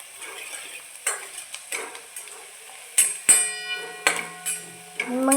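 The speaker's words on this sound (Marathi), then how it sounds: "हे बघा आपला कांदा किती मस्त फ्राय झालेला आहे" Onion frying in a pan with chili powder, turmeric and masala stirred in, soft sizzling under scattered clinks and scrapes of a spoon against the pan, with a sharper metallic knock midway.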